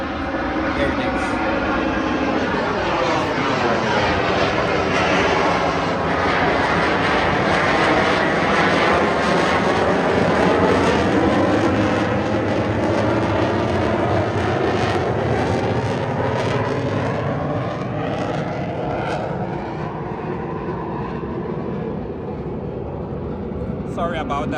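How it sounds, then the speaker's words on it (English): A military jet from a nearby Air Force base roars overhead, loud and continuous for over twenty seconds with a sweeping pitch that swells toward the middle and slowly fades, while a person talks faintly underneath. "That's a military jet. There's an Air Force base just around the corner."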